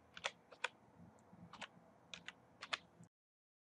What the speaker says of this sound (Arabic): الكيبورد على مفتاح الويندوز والR، وبعدين نكتب CMD وبعدين انتر.